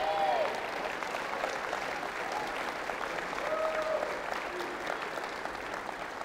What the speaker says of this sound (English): Let's give President Henry a round of applause.